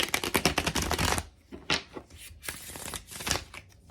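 Tarot cards riffle and shuffle in quick crisp bursts, a fast flurry followed by a few shorter shuffles with brief pauses, close by.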